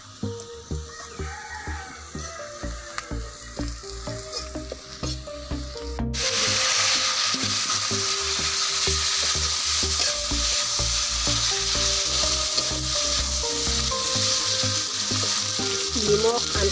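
Pork frying with spices and red chili in a pan, stirred steadily; a loud continuous sizzle swells after a few seconds and holds to the end, with no talk.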